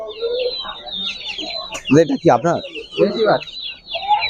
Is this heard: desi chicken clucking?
yes